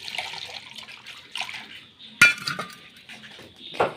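Water is poured into a metal kitchen vessel before jackfruit seeds are boiled, with clinks and clanks of pots and a sharp metallic knock partway through, close by and at moderate loudness.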